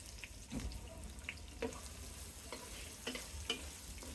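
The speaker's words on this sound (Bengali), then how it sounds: "পেঁয়াজগুলোকে আমি হালকা বাদামি করে ভেজে নেব" Chopped onions hit hot oil with bay leaves and five-spice seeds for a vegetarian mixed vegetable dish, a soft continuous sizzle with faint clinks and stirring, quiet and close.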